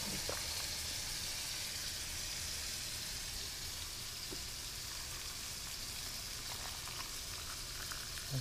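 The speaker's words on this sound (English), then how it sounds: "I got this water boiling right here." Water bubbles and rumbles at a steady boil in a pot for canning corn, a soft continuous churning with faint pops, heard quietly up close with no talking.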